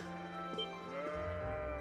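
Sheep bleating in the video game The Legend of Heroes: Trails of Cold Steel, a couple of short bleats set against steady background music, fairly quiet.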